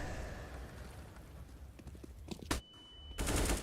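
Gunfire from a Counter-Strike match on the Inferno map: a dense rattling burst of shots, then a sharp crack, a thin whine and a loud final burst.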